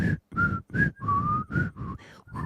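A person whistles a series of short, clear tonal notes with brief gaps, one longer sustained note in the middle, close and fairly loud.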